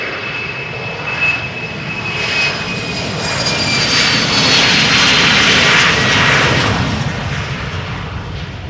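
Loud, continuous jet roar from a KLM airliner taking off on the Polderbaan runway at Amsterdam Schiphol, building steadily as it nears, then holding a broad, rushing rumble, with no voices over it.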